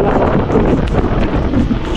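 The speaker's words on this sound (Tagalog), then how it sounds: "Grabe po, malakas ang ulan dito sa Daes." Heavy outdoor rain and gusting wind in Daes, roaring broadband and buffeting the microphone throughout, loud and close with no voices.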